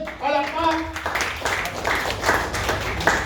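A group of people claps after a bonus prize announcement at a sales presentation, a burst of scattered applause running under a voice at the start and continuing steadily to the end.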